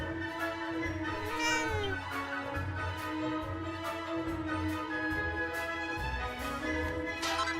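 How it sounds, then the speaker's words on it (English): A cat meows repeatedly in Dragon Quest VII Reimagined, the rising and falling calls coming close and clear over a steady game soundtrack. "Can I pet the cat?"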